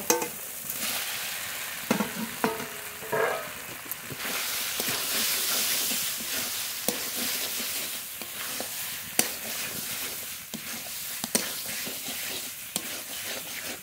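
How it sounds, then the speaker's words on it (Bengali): Pointed gourd fries in a pan of cooked-down masala over very low heat, a steady sizzle and hiss broken by scraping stirs and occasional sharp clinks of the spoon against the pan, close and with no talk. "এবার কম জালে, একদম কম জালে ভালো করে নেড়ে নেড়ে ভেজে নেব"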